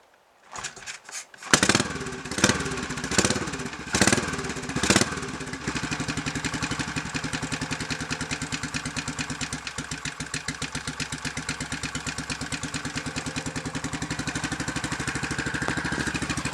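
A cold Royal Enfield motorcycle with an electrical fault cranks with several sputtering attempts, catches, and settles into a steady, even single-cylinder thump at a raised tick-over, heard up close.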